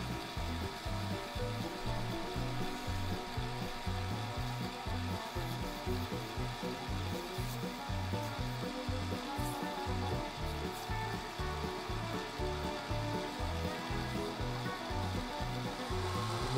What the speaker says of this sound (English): we're going to move over to wet sandpaper, and I'm going to sand up to 1200 grit.